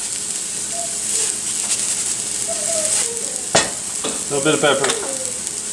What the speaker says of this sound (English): Garlic's going into the pan. You can hear it hit the sizzle.